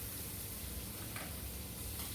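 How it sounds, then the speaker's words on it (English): Butter sizzles steadily in a hot pan being readied for shrimp, a close, even crackling hiss with no talk. "I'm gonna add some butter to this pan."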